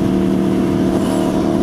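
A loud, steady engine roar fills the whole stretch, close and continuous with no talk, fitting the exhaust of an Aprilia Tuono V4R motorcycle as the throttle is cracked.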